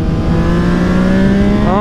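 Yamaha MT-09 motorcycle with a full exhaust and flashed ECU accelerating, a loud, close engine note rising steadily in pitch over a short burst.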